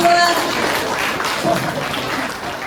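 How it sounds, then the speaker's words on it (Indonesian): An audience claps steadily for candidate pair number 2 at a student council chair and vice-chair debate, with continuous dense applause filling the short stretch. "Berikan tepuk tangannya untuk paslon nomor 2"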